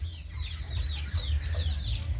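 Farm chickens being raised for sale clucking in a rapid, continuous series, fairly close, over a heavy low rumble of background noise.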